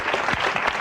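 A short burst of dense clapping and cheering continues steadily throughout, applause for PVC at a dodgeball-over-the-fire game.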